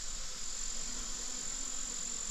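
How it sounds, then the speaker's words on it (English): Dense, continuous buzzing of honeybees foraging on flowering Japanese knotweed, a steady close swarm hum with no talk. "These bees are working this Japanese knotweed."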